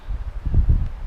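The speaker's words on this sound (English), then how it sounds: "This place is a little windy" Gusty wind at a campsite in the Shasta-Trinity National Forest, buffeting the microphone in low rumbling surges with a faint rustle of leaves, close and fairly loud, no voices.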